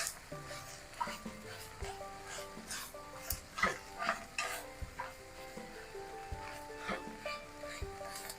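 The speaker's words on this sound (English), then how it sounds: "But you got to break this up and get it all mixed in." Ground beef, about two pounds, broken up and stirred in a pot for chili, giving a soft steady sizzle with repeated scraping and clacking strokes of the utensil.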